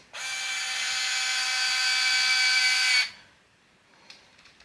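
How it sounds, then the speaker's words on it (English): An electric screwdriver drives a screw in one continuous high whir lasting about three seconds, then stops, leaving a few faint clicks. "Sometimes I like to cheat with the electric screwdriver."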